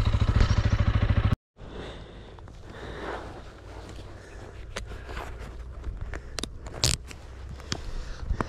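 A 2023 AKT TTR 200 motorcycle runs on an off-road trail, its close engine putter cutting out abruptly, followed by quieter running with crunching, clattering knocks from the rough track.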